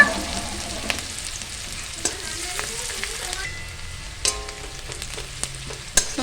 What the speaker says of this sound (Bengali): দেখো পেঁয়াজটা একটু ভাজা ভাজা হয়ে গেছে